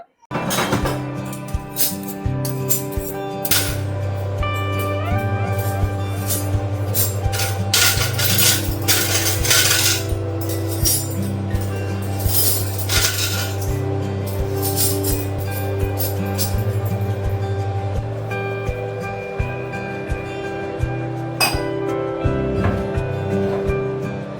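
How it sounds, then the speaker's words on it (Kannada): Washed dishes and steel vessels being stacked and put away in a home kitchen during a morning routine, with repeated metallic clinks and clatters over a constant low hum. "ಅಷ್ಟರೊಳಗಡೆ ಇನ್ನ ನೈಟ್ ಪಾತ್ರೆಗಳನ್ನೆಲ್ಲ ವಾಶ್ ಮಾಡಿ ಇಟ್ಟಿದ್ದೆ ಅಲ್ವಾ, ಅದನ್ನೆಲ್ಲ ಕ್ಲೀನ್ ಆಗಿ ಜೋಡಿಸ್ಕೊಂಡ್ ಬಿಡ್ತೀನಿ"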